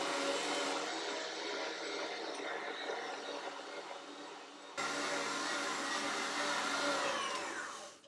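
A meat grinder mincing meat and bacon for homemade Fleischkäse, a steady loud motor whir with a gritty churning texture, briefly dipping then resuming before trailing off, heard alone.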